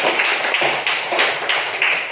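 A school class applauding in a classroom, a steady burst of many hands clapping together at close range, dense and continuous throughout with no talk over it.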